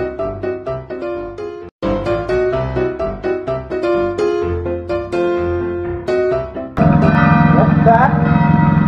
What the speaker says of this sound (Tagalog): Ayan, nagbe-bell na yung kampana.